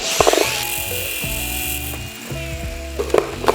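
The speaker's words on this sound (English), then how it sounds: "Now we need to remove this clamp here." A tool works a clamp off a BMW fuel tank: close ratcheting clicks and metallic scrapes at the start and end, with a few tonal creaks between them.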